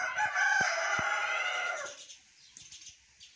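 Chicken calls in a home setting with chickens and a chick about, a loud run of clucking and crowing at the start that fades into quieter scattered sounds and faint thumps.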